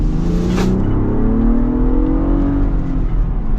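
Modified Ford Bronco Raptor on 37-inch off-road tyres accelerating hard, a loud, close engine roar climbing steadily in pitch with a whirring drivetrain beneath it.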